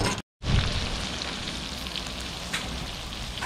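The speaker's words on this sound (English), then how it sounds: "Check out the sizzle." Steak basted with a garlic barbecue sauce sizzles steadily over a fire, a continuous close crackling hiss broken by a brief dropout near the start, with no talking.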